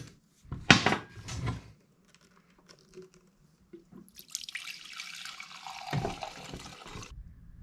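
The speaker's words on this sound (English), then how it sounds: "take this old fuel, dump it out into a clear container" Old fuel from a Dolmar 112 chainsaw pours into a clear container, a short splash and then a longer trickling stream after a few light knocks and clicks.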